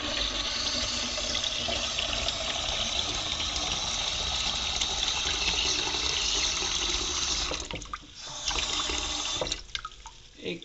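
Cold water runs steadily from a kitchen tap while a coffee carafe is prepared for cleaning, a continuous broadband splashing hiss that fills most of the clip before briefly thinning and cutting out near the end.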